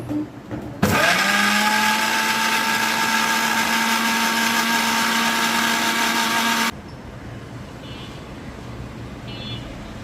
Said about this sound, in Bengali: ধনিয়া পাতার ভর্তাটা ব্ল্যান্ড করে নিচ্ছি